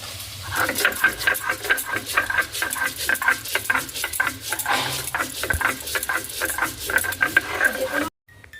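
Whole coriander seeds are ground on a flat grinding stone, the rhythmic scraping and crunching strokes close and steady with a brief cut at the end; a voice talks over the grinding.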